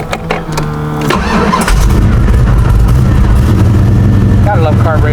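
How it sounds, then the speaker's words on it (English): A carbureted Ford Fairmont engine cranks with rhythmic starter churning, catches and fires up into a loud rumbling idle, then revs, close up, with someone speaking briefly toward the end. "Gotta love carburetors. Starts. Rev it up."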